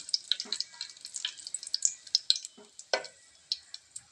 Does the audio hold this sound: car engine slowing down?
no